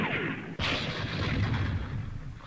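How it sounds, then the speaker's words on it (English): Heavy mortar fire in the Divided Ground Vietnam War mod video game, a single sharp near boom followed by a sustained rumbling roar. "heavy mortar there"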